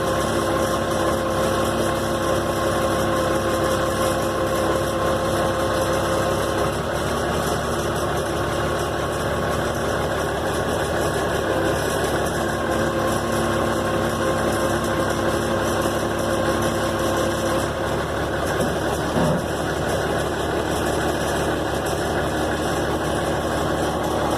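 An Allis Chalmers wheel loader engine runs steadily at idle, a loud continuous mechanical drone with a constant even tone throughout.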